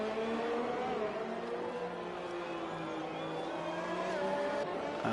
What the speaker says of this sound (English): As they come out to do their warm-up out lap.